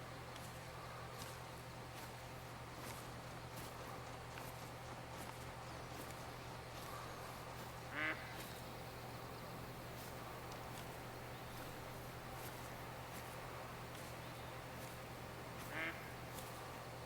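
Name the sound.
duck quacking in the video game The Hunter: Call of the Wild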